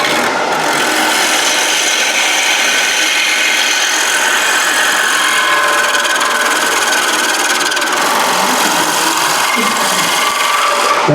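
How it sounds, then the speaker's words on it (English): Wood turning at a lathe with a chisel cutting into the spinning workpiece, giving a steady, loud, continuous scraping and rasping hiss that runs unbroken for the whole stretch, with a slight change in texture near the end. "There's a small cut in this. So I'm just turning in. There's that chisel there."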